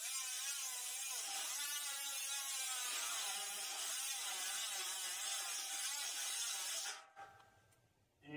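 An angle grinder cuts into a steel trailer fender with a loud, continuous high-pitched whine and grinding screech that wavers as it binds, then stops abruptly and spins down near the end.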